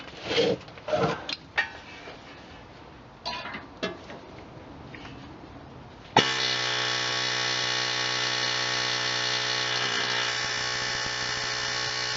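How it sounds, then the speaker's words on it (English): A few faint clicks and chirps, then a power drill starts up and whines loudly and steadily for the last six seconds, drilling out a rivet on an exhaust flange. "I'll drill it out."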